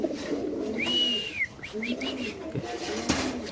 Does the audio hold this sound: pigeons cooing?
yes